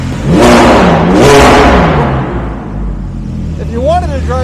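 A loud, close Ferrari 430 GT3 Challenge race car engine revs hard twice, roaring up and winding down, then settles into a rumbling idle with a brief voice near the end.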